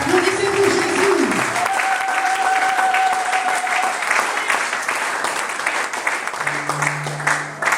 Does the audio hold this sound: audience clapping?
yes